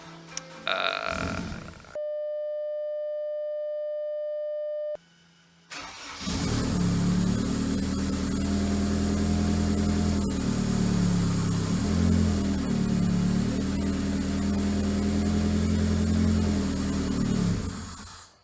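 A rebuilt, fire-damaged Lotus engine cranks briefly, a steady electronic tone cuts in, then it catches and settles into a loud, close, slightly uneven idle that runs on steadily without any talk.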